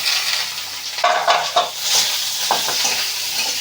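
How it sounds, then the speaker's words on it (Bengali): Onions frying in oil after a tempering of cumin, dry chilli and bay leaf, a close, continuous hissing sizzle broken by a few stirring scrapes, with no voices. "তাই পেঁয়াজটাকে ভেজে নিচ্ছি।"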